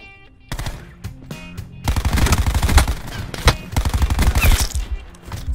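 Call of Duty Blackout gunfire, likely from the ICR-7 rifle: dense rapid bursts of automatic shots, loud and continuous with brief gaps, forming a crackling barrage.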